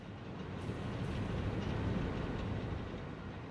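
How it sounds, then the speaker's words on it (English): Freight train rolling past in the video game Satisfactory, a dense, steady rumble with a faint rhythmic clatter of wagons, loud and continuous, without talk. "That's the copper train coming through."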